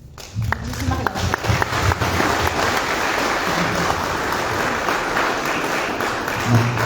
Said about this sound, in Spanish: ya el aplauso merecido